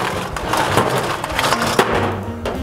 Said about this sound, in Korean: 얼음을 가득 넣어줍니다.